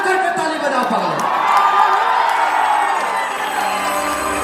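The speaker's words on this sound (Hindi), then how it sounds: "एक बार जोरदार हमारे डीएम साहब के लिए और जगदम्बिका पाल जी के लिए जोरदार हल्ला करके ताली बजा पाए।" A large outdoor crowd at a Bhojpuri stage show at a festival cheers and whoops loudly and continuously, with a dense roar of voices that may include clapping.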